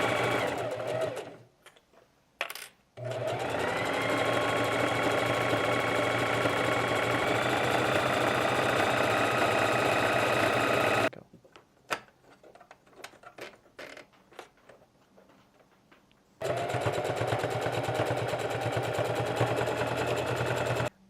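Sewing machine stitching hoodie fabric pieces with right sides together in a straight seam, a loud steady motor whir running in long bursts, broken by short pauses and a quiet stretch of faint handling clicks.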